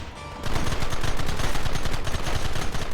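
Rapid gunfire from Red Dead Redemption, a dense burst of repeated loud shots after a short quiet lead-in, fired in fast irregular volleys that continue nearly nonstop to the end.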